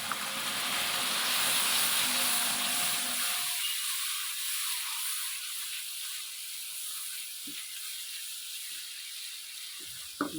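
Water poured into spices frying in a pan for a potato dish gives a loud steamy hiss and sizzle that starts strong, then settles into a quieter, steady fizz with a few small clinks near the end.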